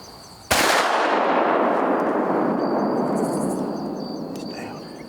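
A single loud muzzleloader shot cracks out during a deer hunt, its long booming report echoing and slowly fading across open country.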